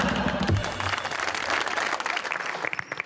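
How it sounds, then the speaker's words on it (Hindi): Applause from a live talk-show audience, loud and continuous dense clapping throughout, with a few voices mixed in early on. "ऑनेस्टी पे तालियां"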